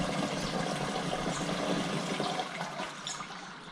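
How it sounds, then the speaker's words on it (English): Water poured slowly through a filter basket into a sprayer tank while mixing a plant growth regulator, a steady close rushing and splashing that runs continuously and eases slightly toward the end. "Now, I'm going to slowly fill the rest of my water through my filter basket here."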